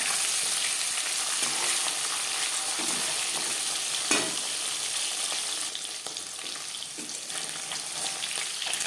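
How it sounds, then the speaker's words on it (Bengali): Katla fish pieces fry in oil in a pan, producing a continuous dense sizzle up close that swells briefly at one point and then settles, with faint stirring movement and no talking. "মাছ ভাজা হয়ে গেছে"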